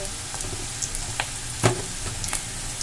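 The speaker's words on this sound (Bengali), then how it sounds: "একটু সোনালি করে পেঁয়াজগুলো ভেজে নিতে হবে।" Onions fry with green chilli, turmeric and salt in a pan, an even close sizzle running throughout, broken by a few sharp scrapes and taps of a spatula stirring against the metal.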